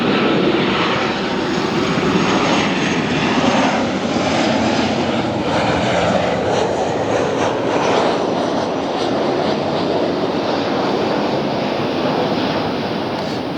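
A Southwest Airlines jet from Dallas Love Field passes near LAX as a loud, steady, broadband engine roar that holds evenly throughout, with no other sounds breaking through.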